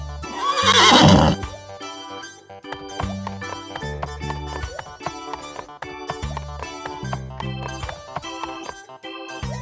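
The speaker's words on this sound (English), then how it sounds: "Horse." A horse neighs loudly near the start, a bright whinny lasting about a second over a farm setting, then fades into steady background music with rhythmic beats for the rest.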